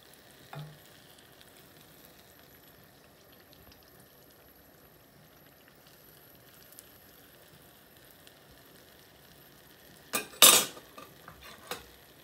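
Seeni Ariyatharam sweet dough fries in hot oil with a soft, steady sizzle, joined near the end by a short burst of metal utensil clatter and scraping. No one speaks.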